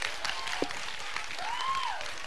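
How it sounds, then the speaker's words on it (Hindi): Audience applause at a Hindi quiz show held for a Dev Anand birthday celebration, a steady broadband clatter of clapping lasting about two seconds, with a brief whistle-like tone rising and falling over it. "तालियां जोरों से बजाइए।"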